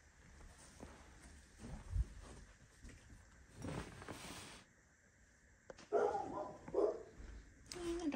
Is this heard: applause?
no